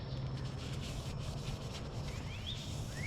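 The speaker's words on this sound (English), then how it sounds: "At this point, I'm wiping it down with a degreaser." Rag wiping degreaser over a bicycle frame, a continuous close rubbing swish with faint squeaky streaks near the end, no voices.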